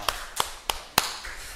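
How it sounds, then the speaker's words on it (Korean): Four sharp, evenly spaced claps ring out in a church setting, each a distinct crisp burst with a short decay, the last one strongest, against a quiet background with no speech. "박수 한번 하겠습니다."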